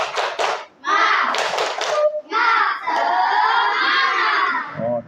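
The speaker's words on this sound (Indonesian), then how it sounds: "Kamu tepuk semangat dulu." A group of schoolchildren in a classroom claps and shouts a rhythmic spirit chant together, voices loud and close, with bursts of clapping between chanted lines.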